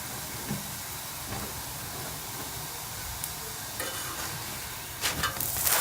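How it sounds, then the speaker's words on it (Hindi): A methi paratha fries on a hot pan, giving a steady dense sizzle that stays even throughout, with a few brief scraping or pressing sounds near the end. "दूसरी साइड भी जो है वो मैं पका लूँगी।"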